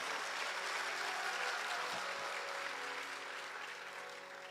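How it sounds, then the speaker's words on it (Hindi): Loud crowd applause at a Gau Katha religious festival at a cow shelter in Palwas, Sikar, steady broadband clapping that fades slightly toward the end, with no talk over it. "एक बार उनके लिए भी जोरदार तालियां"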